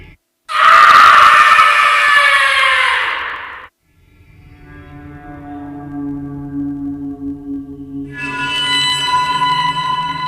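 A woman screams with all her strength as a horror story sound effect: one long, loud, piercing shriek lasting about three seconds, then a short silence and a low droning tone that swells into a brighter sustained chord.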